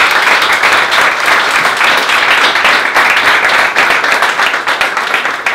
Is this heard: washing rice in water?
no